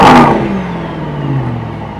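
A sharp engine rev bursts out from a 2025 Mercedes-AMG GT 63 S E-Performance in Sport Plus mode, then the engine settles into a falling, burbling drone that fades over a couple of seconds.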